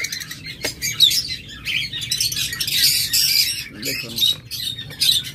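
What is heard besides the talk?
green Fischer's lovebirds chirping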